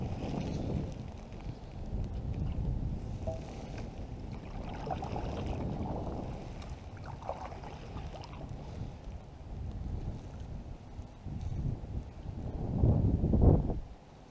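Wind gusts across a lake while canoe fishing, blowing as a steady low rumble against the microphone with swells and a stronger gust near the end, and no one speaking.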